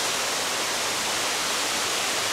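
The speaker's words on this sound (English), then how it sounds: "Little rolling cascade waterfall here." A small rolling cascade waterfall pours in a steady, dense rush of broadband water noise, close and constant throughout with no voices.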